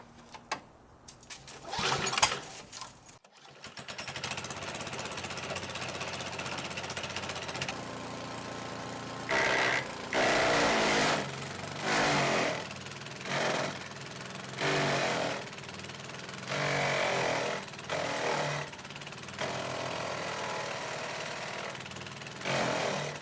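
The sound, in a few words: old power equipment starting and cutting a 2-inch tree branch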